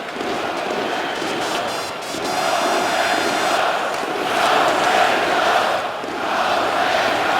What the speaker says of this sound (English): Michael Ferland firing up the crowd